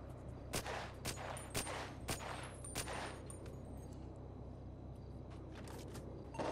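Gunfire crackles from a building during a roleplay video game shootout against police, with several sharp shots in the first half under a steady low engine-like hum and distant intermittent pops.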